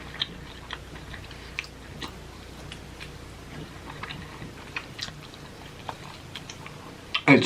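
Chewing on spicy KFC Flamin' Hot chicken wings, soft wet mouth sounds with scattered crisp bites and small clicks, close and quiet, no talking.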